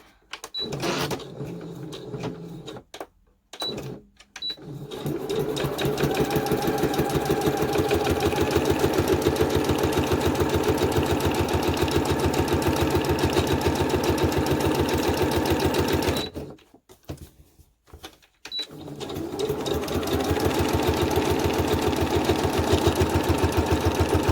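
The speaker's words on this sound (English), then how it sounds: "Bring in my sewing machine. And all I'm going to do is just straight stitch all the way around." A sewing machine runs in long steady bursts of fast, even stitching, pausing briefly twice before starting up again, close and loud.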